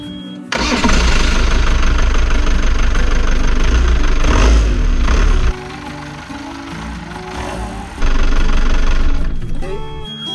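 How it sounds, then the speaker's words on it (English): A Volvo Penta TMD 22 marine diesel engine, freshly fitted with a new timing belt, cranks and starts, then idles with a loud steady clatter, dips briefly, and rises again close by, no speech. "Tested the engine, just make sure there was nothing catching on the belt."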